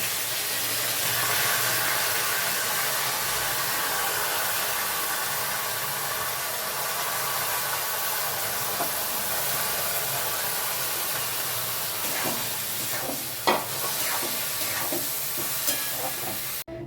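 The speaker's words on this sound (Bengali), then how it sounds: "তেলে দুটো তেজপাতা আর কাঁচা লঙ্কা দিয়ে আমি এবার চালটা ভেজে নেব।" Rice and mung dal frying in oil with bay leaves and green chillies for khichdi, a soft continuous hiss of sizzling with a few scrapes and clinks of stirring near the end.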